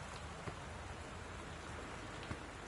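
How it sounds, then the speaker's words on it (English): Torrential rain with high winds in the video game Gone Home, a dense, even wash of rainfall hiss with a couple of faint thumps, steady and alone without voices. "The Northwest Weather Service reports high winds and torrential rain conditions affecting the following"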